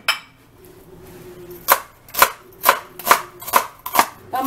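A knife chops a small onion rhythmically on a cutting board, about six crisp evenly spaced strikes in quick succession, close and clear.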